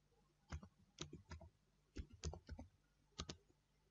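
Light, quiet clicks of typing on a computer keyboard, arriving in short irregular bursts of two or three keystrokes with brief pauses between, close and isolated.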